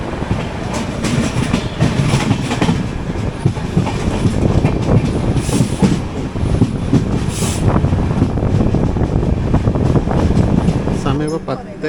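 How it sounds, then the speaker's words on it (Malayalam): The SMT Bangalore–Murudeshwar Express rolls along the rails near Udupi, heard from a train as a steady, loud rumble with rhythmic clickety-clack of wheels over rail joints and faint squeals, continuing unbroken throughout. "ഇത് SMT ബാംഗ്ലൂർ മുരുടേശ്വർ എക്സ്പ്രസ് ആണ്."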